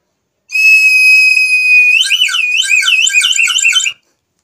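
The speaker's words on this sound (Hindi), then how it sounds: "सीटी जो है एक सेल होती है, मुख्तलिफ आवाज़ें चेंज करती है। मैं आपको बजा के दिखाता हूँ।" A cheap battery-powered toy whistle, one that cycles through different sounds, gives a loud, steady high electronic tone, then switches to a rapid warbling, siren-like pattern before cutting off abruptly.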